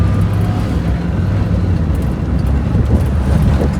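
A Maruti 800 car engine runs steadily and loud throughout, a dense low rumble with road and wind noise as the small car picks up speed, no voices over it.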